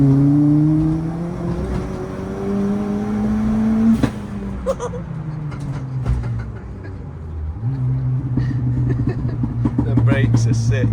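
A Renault Clio 172 engine runs and revs close by, its steady drone rising and dropping through several throttle blips with a sharp clack midway and small rattles toward the end.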